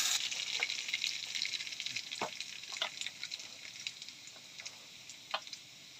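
Chopped onion sizzles in hot oil with dried red chillies, a bay leaf and crushed garlic, a steady close frying hiss broken by soft stirring clicks and occasional sharper pops.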